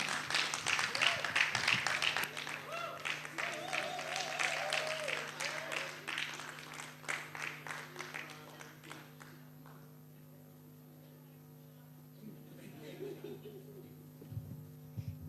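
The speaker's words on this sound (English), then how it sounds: "A round of applause for her, please." Audience applause at a university alumni and students symposium, dense clapping that is loud at first and gradually thins out, with a steady electrical hum underneath and faint voices toward the end.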